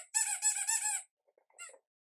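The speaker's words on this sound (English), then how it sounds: "This is a vintage Walt Disneyland, I guess, Disneyland Donald Duck cap. He still squeaks." A vintage Disneyland Donald Duck cap toy squeaks in a sharp, high-pitched burst of about one second, followed by a shorter, fainter squeak after a brief pause, all close up with no talk over it.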